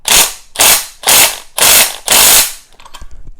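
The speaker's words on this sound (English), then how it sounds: "give it a couple cinches with the impact" Impact wrench cinching strut mount studs on a 2011-2019 Ford Explorer: five loud, close, evenly spaced bursts of rattling hammering, each about half a second, then a brief quieter clatter at the end.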